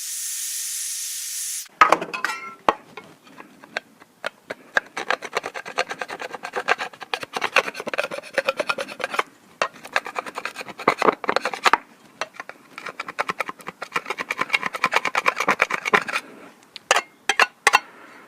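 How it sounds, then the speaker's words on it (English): A hand scraper rasps repeatedly across a surface in quick, close strokes, the scraping bursts broken by brief pauses as direction changes, loud and alone. "So anyways, the scraper."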